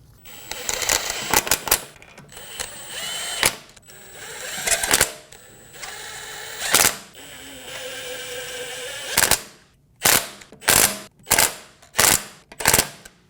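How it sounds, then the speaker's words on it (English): Lug nuts get snugged down on a 2018-2024 Volkswagen Tiguan wheel after a rear brake job, with bursts of rapid rattling clicks from a tool, then a series of loud, evenly spaced sharp cracks near the end. "Snug the lug nuts down."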